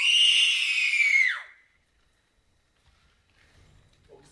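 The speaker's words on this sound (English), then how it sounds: "This is the cry of women, my lord." Women scream offstage as a theatre sound effect in a stage production of Macbeth, one sustained high shriek that falls away after about a second and a half and leaves near silence.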